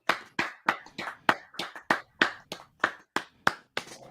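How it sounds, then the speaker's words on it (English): One person claps alone, close by, in slow, evenly spaced sharp claps, about three per second, with quiet gaps between them. "Pardon me while I stand up and applaud."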